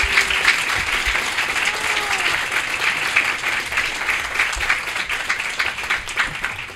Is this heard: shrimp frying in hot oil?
no